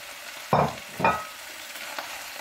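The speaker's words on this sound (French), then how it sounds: "On va remuer de temps en temps jusqu'à ce qu'elles aient bien fondu dedans" Swiss chard is stirred in a frying pan, two distinct scraping swishes about half a second apart over a soft steady sizzle, close up with no voices.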